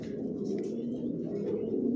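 Racing pigeons coo in a steady, low murmuring rumble close by in a loft, the soft throaty calls overlapping continuously with no pauses.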